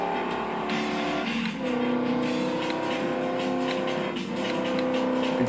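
The race car engine in the video game Ford Racing 2 holds a loud, sustained whine that dips twice as the throttle is lifted and then picks up again. No one talks over it.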